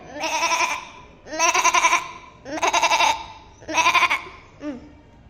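A voice imitates a goat bleating: four loud, wavering bleats at a steady pace, then a short final one, close up with no other talk.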